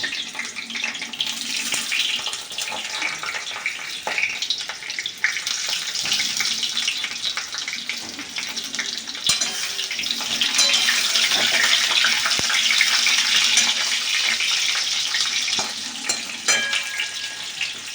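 Sliced potatoes fry in hot oil with a steady, close sizzle broken by sharp crackles and pops, the bubbling swelling louder partway through, with no talking over it.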